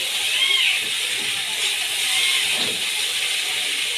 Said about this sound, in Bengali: নাড়া হয়ে গেছে, এবার আমি অল্প করে ভেজে নেব সবজিগুলোকে।